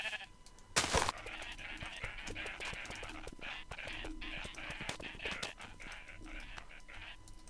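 Sheep bleat in overlapping, uneven calls of varied pitch at moderate distance, with a sharp burst of noise near the start and soft whispering voices beneath.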